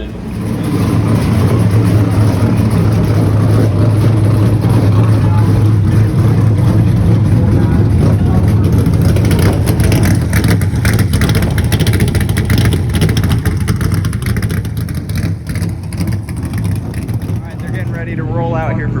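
Race cars at an ARCA Menards and IndyCar doubleheader weekend roll out for practice, their engines droning loud and steady for the full stretch while someone talks over the noise.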